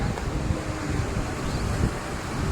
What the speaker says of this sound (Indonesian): Tarikan dari ombak ke atas kembali ke darat kembali ke air itu sangat ngeri ya